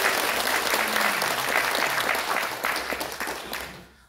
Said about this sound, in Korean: 그 수고해주신 서영교 의원님께 다시 한번 큰 박수 부탁드립니다